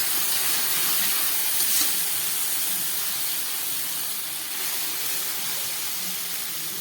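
Kochur loti, taro stolons, frying with spices in a pan for a spicy Bengali dish, a continuous loud hissing sizzle throughout, steady and close, without speech.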